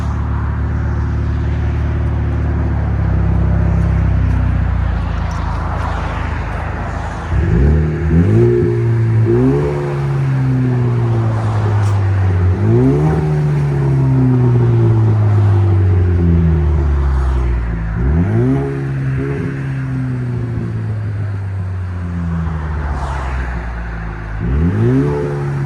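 A loud 2013 Cadillac ATS 2.0-litre turbo engine with straight-piped exhaust revs repeatedly, rising in pitch with each throttle blip and dropping back to a deep, rumbling idle between pulls.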